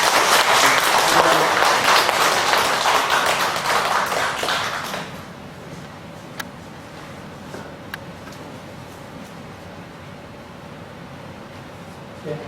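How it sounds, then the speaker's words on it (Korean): Church congregation at a Sunday service claps in dense, steady applause for about five seconds as the pastor is welcomed, then it stops abruptly and leaves a quiet room with a few faint taps. "박수합시다."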